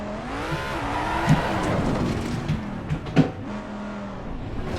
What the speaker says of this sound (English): For those of you who want to know how to warm up your tires real quick for your outlap, that is how it's done.